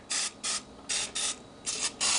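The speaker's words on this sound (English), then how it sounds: "Just going to spray the trivet down so that things don't stick too much." An extra light olive oil spray is pumped onto an air fryer trivet in six short, close hissing bursts, each about a quarter second long and separated by brief pauses, with no one speaking.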